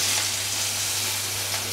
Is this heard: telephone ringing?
no